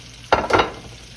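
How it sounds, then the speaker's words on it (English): Alligator tails frying in a wok of hot oil, a sudden burst of sizzling that swells, peaks briefly and settles into a softer steady crackle, close by with no talk. "And while those are frying,"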